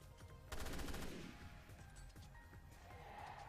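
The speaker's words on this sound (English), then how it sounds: "Just going to use my burst rifle." Burst rifle gunfire in the video game Resident Evil Revelations 2 comes as a rapid rattling volley of shots, loud and close, followed by a fading rumble and quieter game ambience.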